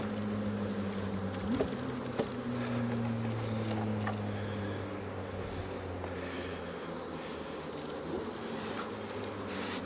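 Honey bees drone steadily around an open hive during a spring single-brood-chamber setup, a dense, continuous hum with a low motor-like tone running beneath it and a few brief knocks.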